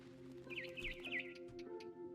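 Birds chirp outside a window in the game What Remains of Edith Finch, where a barn swallow is returning to her nest, giving several quick repeated tweets over a steady low hum of game ambience.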